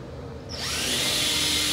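A power drill spins up and bores into material while a steel target stand is being built, starting abruptly after a quiet moment and then whining steadily and close at full speed.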